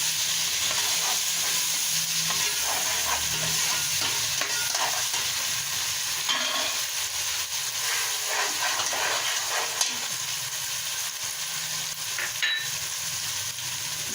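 Browned onion frying with ginger garlic paste in a pan for mixed vegetable sabzi, a steady close sizzle and hiss with scraping stirring strokes throughout and no talk.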